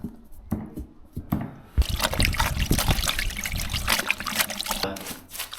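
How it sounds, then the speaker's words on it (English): Water poured into a bucket of PVA mix while plastering, a close trickling and sloshing stream that starts faintly and builds into continuous pouring, with no talk. "Whip up a batch of PVA, dilute it down with a little bit of water"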